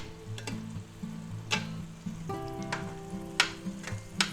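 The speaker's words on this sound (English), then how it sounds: "we're going to let that cook a little bit until the egg firms up" An egg, ham and cheese sandwich sizzles steadily in a frying pan, with a few sharp clicks and taps of utensils rising over the hiss, and nobody speaking.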